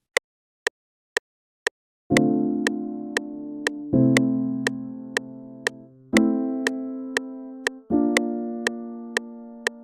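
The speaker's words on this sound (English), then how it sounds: "we pick a soft piano and writing a chord progression to it." Soft piano chords change every couple of seconds, each swelling gently and sustaining, while a steady clicking tick keeps time throughout.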